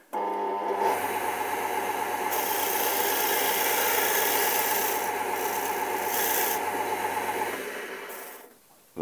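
Wooden game plugs for Mensch ärgere Dich nicht having their bottoms chamfered on a machine, a loud continuous rasping whir held steady for about eight seconds before it stops.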